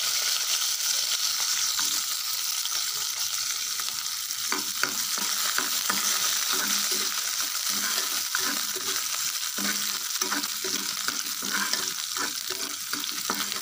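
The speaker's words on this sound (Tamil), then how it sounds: "இப்போ இஞ்சி பூண்டு போட்டுடலாம்." Ginger and garlic fry in oil in a pan for radish chutney, a loud close sizzle with rhythmic scraping and stirring strokes picking up partway through, no voices.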